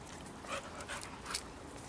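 A dog panting in short, soft bursts while playing in muddy water outdoors, close by over steady background noise, with a few faint whimpery breaths.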